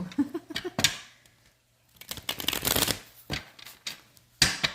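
Tarot cards shuffled by hand in quick riffling bursts, separated by brief pauses, close and crisp.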